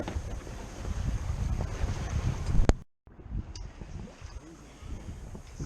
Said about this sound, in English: Just sailing through the Cavalli Islands now.